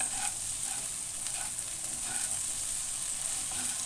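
Okra sabzi sautéing in a pan, a dense, continuous sizzle with steady hiss and faint stirring, close and loud with no talking.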